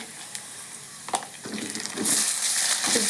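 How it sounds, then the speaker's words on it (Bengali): Ginger-garlic paste fries in a pot for khichuri with a steady sizzle that swells loudly partway through, broken by a few scraping stirs and small clinks. "এখানে আমি 2 টেবিল চামচের মতো অলমোস্ট আদা রসুন বাটা দিয়ে দিচ্ছি।"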